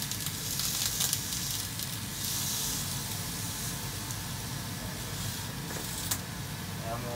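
A thick block of bacon frying in a pan on high heat makes a steady, fairly faint sizzling hiss that runs unbroken and even from start to finish.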